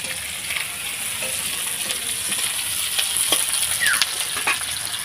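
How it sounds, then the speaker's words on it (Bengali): Onions and capsicum sizzle and fry in a pan while being stirred, a steady close hiss with scattered scraping clicks from the spatula, during cooking of chilli jackfruit. "পেঁয়াজটা হালকা একটু নেড়ে চেড়ে নেবো, নিয়ে ক্যাপসিকামটা দিয়ে দেবো"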